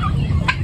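A turkey lets out a short, close gobbling call, a brief burst of throaty sound lasting under a second.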